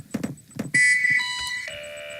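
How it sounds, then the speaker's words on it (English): An alarm in the factory-building game Factorio sounds loud and steady, a sustained electronic tone shifting pitch in a few stepped stages, right after a couple of brief low knocks. "So as the alarm goes off"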